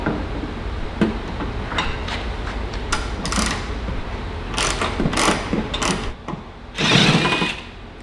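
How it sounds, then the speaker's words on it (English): Ratchet clicking in short bursts while removing panel bolts on a 30-year-old Ferrari Testarossa during a major service, several separate bouts of quick close-up clicks over a steady low background hum. "let's get this panel off and get that out of the way"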